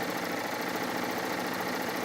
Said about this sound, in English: I love the sound of the serger, but LeeAnn's doing really fast